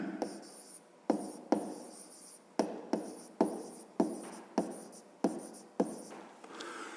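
A math solution being written out by hand, with about a dozen separate scratchy strokes in an uneven rhythm, each starting sharply and fading, close and fairly quiet with no talk.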